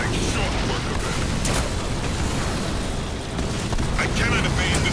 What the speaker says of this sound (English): I cannot evade this barrage.